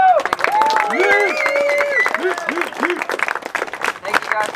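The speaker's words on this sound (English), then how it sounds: "Give them a round of applause." Crowd applause at a BMX jam for a Stacked BMX shop, scattered claps mixed with whoops and voices calling out, lively and close throughout.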